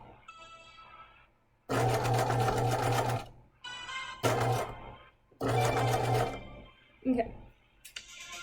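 Sewing machine stitching a hem on a hanten jacket, several loud close bursts of rapid needle clatter broken by short pauses, with brief speech in between.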